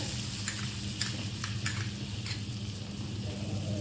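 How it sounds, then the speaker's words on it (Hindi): About three spoonfuls of butter melting in a pan, a soft, steady close sizzle with a handful of brief crackles and light utensil clicks, no talking. "इसको मेल्ट करेंगे"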